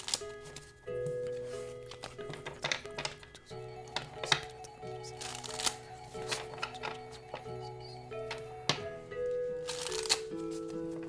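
Oracle cards are shuffled by hand in repeated rustling, slapping bursts with irregular rhythm, close and fairly clear, while a quiet voice talks now and then.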